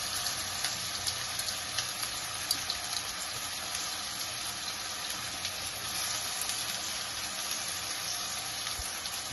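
Onion hitting a hot pan of oil for spiced mashed red lentils, a steady moderate sizzle with a watery hiss that runs unbroken from start to finish.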